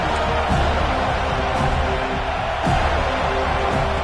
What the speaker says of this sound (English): This crowd rising up, sensing that its defense needs some help.